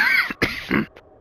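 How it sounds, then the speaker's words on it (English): A single person gives a short throat-clearing cough, two or three quick rough bursts close to the microphone, alone without talk. "I had to cough for a second"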